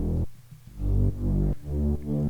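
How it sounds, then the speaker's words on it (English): A high bass synth line from a music production track, playing alone in a few sustained, rounded notes with short gaps between them, fairly full and steady in level. "So let's go to the high bass, which sounds like this."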